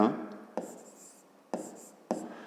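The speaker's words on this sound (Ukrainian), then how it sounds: "Записуємо тоді друге." A pen writes out working for a fifth-grade math exercise, giving soft scratchy strokes in three or four separate bursts, close and quiet, with a voice faintly in the background.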